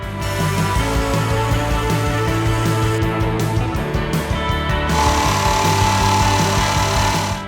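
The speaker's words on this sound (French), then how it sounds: "je prends la scie plongeante et je fais les découpes dans la longueur." A loud, steady plunge saw whine with a grinding edge runs continuously, shifting pitch slightly as it cuts lengthwise through a wood panel.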